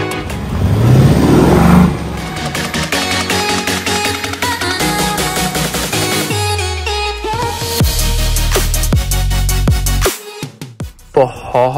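An Aston Martin engine revs loud and close, rising through the revs with stepped gear changes before backing off near the end. No one speaks over it.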